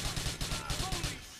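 A burst of automatic gunfire in Grand Theft Auto IV, a fast, even string of loud close shots that runs through most of the moment and then cuts off.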